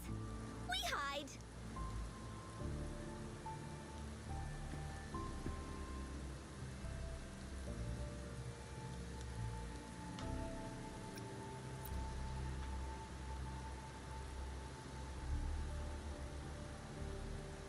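Steady rain falls in a video game, a dense constant patter with occasional faint ticks and tonal game sounds layered over it, while a voice talks now and then.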